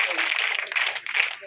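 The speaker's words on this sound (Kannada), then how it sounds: "ಇನ್ನೂ ಜೋರಾಗಿ ಚಪ್ಪಾಳೆ ತಪ್ಪಬೇಕು" Children clapping in applause at a government school event's inauguration: a dense, steady patter of many hands that holds across the moment with only brief dips.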